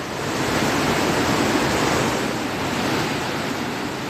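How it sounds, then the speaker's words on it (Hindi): The Alaknanda river at Rudraprayag, flooded above the danger mark after overnight rain, rushes past in a dense, continuous roar of turbulent water, loud and close, with no voices. "रुद्रप्रयाग में रात भर हुई बारिश के बाद अलकनंदा नदी खतरे के निशान से ऊपर बह रही है।"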